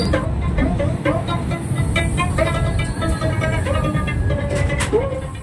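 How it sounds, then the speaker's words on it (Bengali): The Rampurhat–Howrah Shahid Express departing Rampurhat station rumbles steadily along the rails, a continuous heavy roar with faint metallic squeals and tones riding over it, close and loud throughout. "রামপুরহাট থেকে ছেড়ে দিল 12348 রামপুরহাট হাওড়া শহীদ এক্সপ্রেস"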